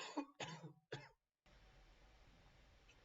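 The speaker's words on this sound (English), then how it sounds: "Sorry guys for coughing." Three quick, raspy coughs come close together from one person playing the online game Archlord, followed by a short silence and faint background hiss.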